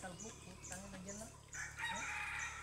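A rooster crows and clucks at an outdoor cockfighting gathering in the Philippines, the calls rising over steady background chatter and a low hum, with people talking nearby throughout.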